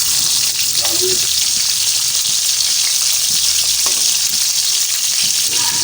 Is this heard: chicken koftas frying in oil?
yes